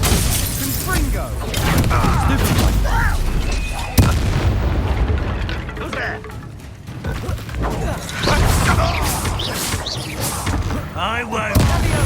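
Hogwarts Legacy wizard-duel combat fills the scene with a Confringo explosive spell and clashing magic: dense booms, cracks and shattering bursts layered with mechanical clatter, loud and continuous, with voices shouting in the fight.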